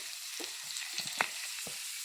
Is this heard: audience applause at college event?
no